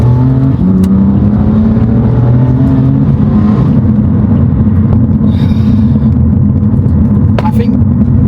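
Tuned and stanced BMW M4 F82 accelerating in Sport Plus mode with the windows up, a loud cabin rumble with rising engine harmonics that climb and step through gears, someone talking over it.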